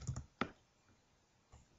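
A few sparse keystrokes clack on a computer keyboard while Visual Basic 2008 code is typed, with two clustered taps, a single sharp click and a softer tap near the end, all close and quiet.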